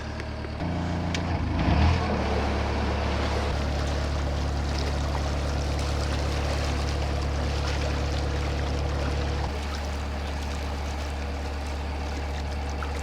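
Steady low engine rumble with constant water wash, a boat chugging along at an even pace on the North Oxford Canal in icy conditions, with no talking.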